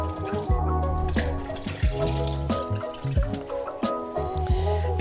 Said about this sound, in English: simply take it over to the sink, drain off the water